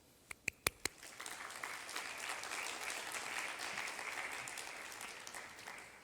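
Graduation ceremony applause thanking lecturers: a few loud, separate claps open, then a broad, even roll of crowd clapping that holds steady and gradually thins out.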